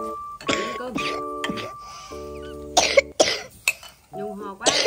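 A person coughs repeatedly in a home kitchen setting, several sharp close coughs spaced between bursts of talk, with people speaking around them.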